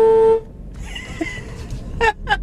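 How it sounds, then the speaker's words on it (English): A car horn blares in one long, loud steady blast that cuts off abruptly, followed by quieter tonal chirps and background noise, with no one talking. "Honk the horn?"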